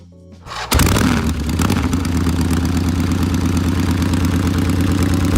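A Harley-Davidson motorcycle engine fires up after a brief quiet moment and settles into a loud, steady, throaty rumble with a rhythmic low thumping that holds for about five seconds, close and alone.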